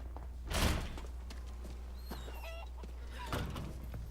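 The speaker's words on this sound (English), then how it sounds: "Don't shoot chickens." Chickens in a farm village in Resident Evil 4 Remake give a few scattered clucks over a low, steady game ambience, with a thud and a louder rustle rising then settling.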